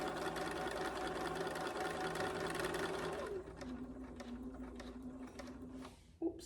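A sewing machine runs steadily while stitching a fabric bag, a dense mechanical whir that slows and softens after a few seconds, followed by a light click near the end.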